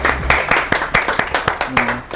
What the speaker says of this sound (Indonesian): Kak Sakia, boleh tepuk tangan buat Kak Sakia.